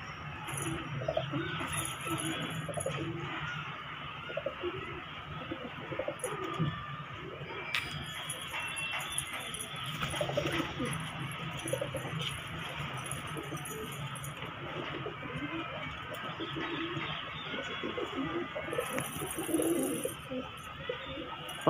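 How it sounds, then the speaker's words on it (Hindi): Wild pigeons crowd into a rooftop coop, their low, throaty cooing rolling on and off over a long stretch, joined by scattered clinks, flutters and outdoor background noise. "और अब ये जंगली कबूतर जाने शुरू हो गए हैं दड़बे के अंदर।"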